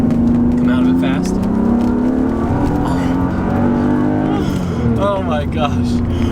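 Car driven hard through quick left-right transitions on polyurethane subframe and differential bushings, its engine droning loud and steady with rising and falling revs, while a person exclaims over it.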